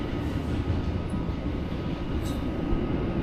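A train at a Japanese railway station gives a dense, steady low rumble throughout, with faint high squeals cutting through briefly.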